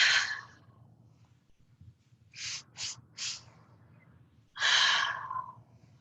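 Three short, sharp breaths in during a guided breathing exercise, framed by two longer, deeper breaths at the start and end, heard close and alone against a quiet room hum.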